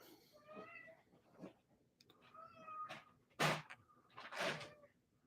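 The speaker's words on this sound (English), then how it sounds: "Yes, you are a cat." A domestic cat meows several times indoors, the calls rising and falling at moderate volume, with a couple of louder, sharper cries near the end and faint room noise between them.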